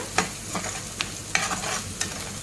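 Spice paste being stirred and fried in a pan for a dried-prawn dish, with scraping spoon strokes at irregular intervals over a low steady sizzle, close and fairly quiet.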